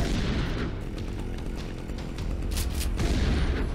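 Shotgun and rifle gunfire from the zombie survival video game Dead Age 2 rings out as a dense, continuous barrage of loud booming shots with no pauses.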